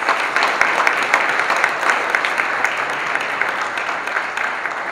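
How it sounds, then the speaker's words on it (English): A conference room of people clapping, a brisk steady patter of applause that holds at an even level throughout. "please give an applause to Stacy"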